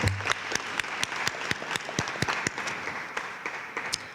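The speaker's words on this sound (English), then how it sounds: "I would like to give everyone a round of applause for everything that they did" Applause from the audience at a school board meeting, a sustained burst of many hands clapping at once with sharp irregular claps, close and fairly loud, fading slightly toward the end.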